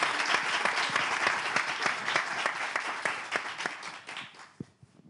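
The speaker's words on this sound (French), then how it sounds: "Est-ce qu'on peut encore une fois applaudir pour ces belles dames?" Audience applause for women on stage, a fairly quiet but clear burst of many hands clapping with distinct sharp claps, tapering off and dying away at the end.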